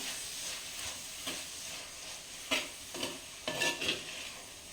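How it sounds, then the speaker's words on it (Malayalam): Chopped tomato is stirred into chicken curry frying in a pan. A soft, steady sizzle fills the clip, broken by a few scraping stirs of a spoon against the pan, close and with no talking. "ഇതിലേക്കൊരു വലിയ തക്കാളി അരിഞ്ഞാണ് ഞാൻ എടുത്തിരിക്കുന്നത് അതുകൂടി ഇട്ടിളക്കാം"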